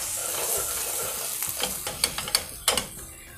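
Mustard seeds, asafoetida and garlic fry in hot oil with a steady close sizzle, and a run of sharp pops and spatters grows busier toward the end.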